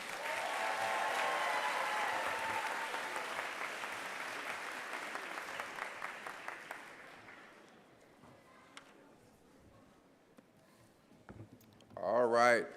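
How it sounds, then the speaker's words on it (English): Loud applause from a crowd at a school graduation ceremony, steady at first then thinning out into scattered claps, with a brief burst of noise near the end. "Let's give all of our scholars a round of applause."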